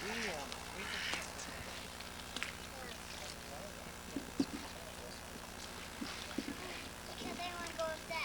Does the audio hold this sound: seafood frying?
no